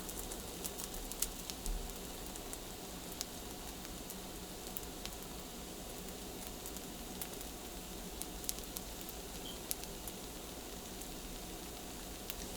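Pigeon peas puri, a roti, cooking in a pan, giving off a soft, steady sizzle and hiss throughout with a few faint crackles. No one speaks.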